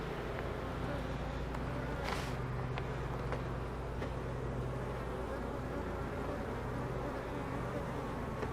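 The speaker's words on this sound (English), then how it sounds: "A lot of bees on here." Honeybees swarm around an open hive during an inspection, a steady dense buzzing hum close by with no pauses.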